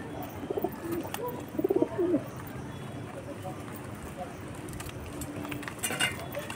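Domestic pigeons coo in a few soft, throaty bursts early on, followed by quieter ambient murmur, with a person talking in the background.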